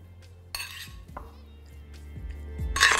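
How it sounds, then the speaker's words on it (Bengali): A chicken marinade with garlic and dark soy sauce being mixed in a bowl: a few light clinks and scrapes of a utensil against the dish, fairly quiet, ending in a brighter rattle. "তারপর এটাকে ভালো করে একবার মিশিয়ে নিন।"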